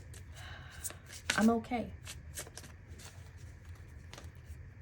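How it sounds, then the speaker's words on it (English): Cards from a Goddess tarot deck are shuffled close to the mic in a few soft riffling bursts, with a brief spoken word in the middle and a steady low hum behind. "I was just shuffling to see if there were more cards that wanted to come out of the Goddess deck for you."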